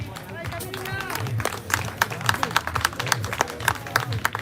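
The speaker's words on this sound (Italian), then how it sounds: "Accogliamo con un grande sorriso, un grande applauso Camilla Cusin." Scattered applause from a crowd at an amateur boxing event, claps rising over a murmur of voices and arena noise, with loud talk from a microphone through it.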